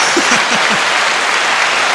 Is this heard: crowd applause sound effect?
yes